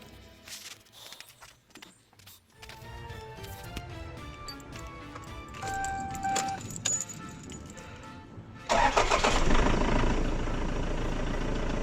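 A 2002 Toyota Hilux D4D GX diesel after starter motor work: keys jingle for several seconds, then the engine cranks once and catches straight away, settling into a loud, steady idle close by with no talking.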